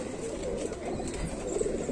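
Golden pigeons coo softly and continuously at close range, low murmuring calls over a steady background hum, with no clear pauses.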